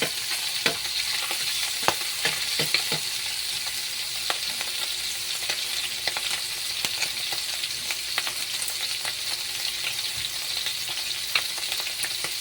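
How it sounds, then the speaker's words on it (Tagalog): Garlic sautéing in a hot pan gives a steady, close sizzle, broken by scattered sharp clicks and scrapes of a stirring utensil, with no talking. "Igisa na po natin. Yan na po natin ang bawang."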